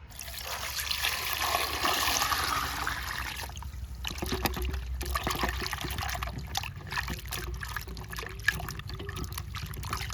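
Mangoes and carrots being washed in water, with a steady trickle and splash of running water throughout and scattered clicks of produce being handled.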